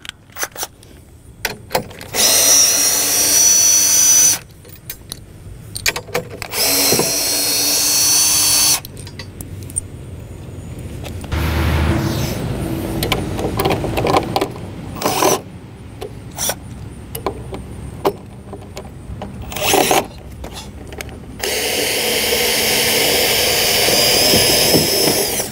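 A power drill drives 9/16 lag bolts into a trailer tongue, with several loud bursts of whirring separated by pauses and quieter handling noise in between.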